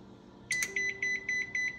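A rapid series of about ten high electronic beeps, evenly spaced and moderately loud, sounds from an oven finishing preheating to 425 degrees, over a quiet background hum.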